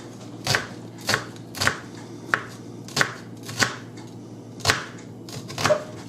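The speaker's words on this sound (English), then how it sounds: "we're going to have to use a regular onion. And we're going to chop this really thinly" A knife slices a regular onion thinly on a board, about ten sharp, separate chops landing in an uneven rhythm, close and clear with quiet pauses between strokes and no talking.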